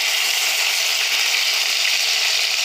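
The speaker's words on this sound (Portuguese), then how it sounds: "Fritando bem um lado, depois fritando o outro, sem deixar muito dourado" Chicken breast pieces fry in a pan with a steady, bright, hissing sizzle that stays even and close throughout, with no talk.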